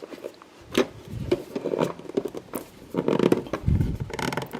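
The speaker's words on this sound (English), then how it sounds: "Try to go snap those in." Plastic miniature pizza shop wall pieces being pressed and snapped into place, a close series of creaks, scrapes and sharp clicks in uneven bursts with effortful handling noise between.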